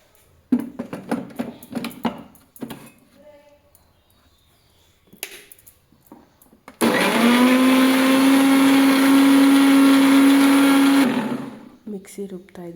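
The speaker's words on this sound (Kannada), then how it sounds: "ಮಿಕ್ಸಿ ರುಬ್ತಾ ಇದ್ದೀನಿ ಈಗ." A mixer grinder blends hill gooseberry juice, starting abruptly into a loud, steady high motor whine for about four seconds before cutting off. Talking and handling clatter come before the blending, and a few clicks follow it.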